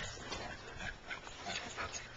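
A farm dog whimpers and lets out short high yips in a quick uneven series, faint and somewhat distant, with no voices over it.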